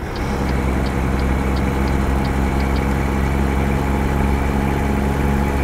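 A modified Peterbilt 389 truck idles in American Truck Simulator, a steady, loud low engine rumble that holds evenly throughout with a faint ticking pattern over it and no talk.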